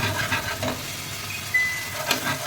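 Masala paste sautéing in hot oil for matar paneer, a steady close sizzle with occasional scraping stirs of a spoon in the pan, no talking.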